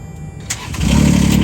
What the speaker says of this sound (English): Now we can take this ignition key,